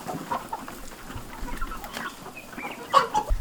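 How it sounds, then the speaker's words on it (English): Home-reared chickens on a mission farm cluck in a scattered, irregular chorus at moderate distance, with occasional sharper calls standing out near the end and no voices. "We have chickens, we rear our own chickens."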